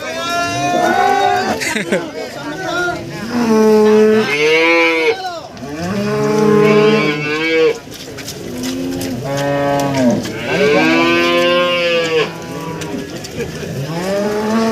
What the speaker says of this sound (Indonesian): Oh, sapi ngamuk.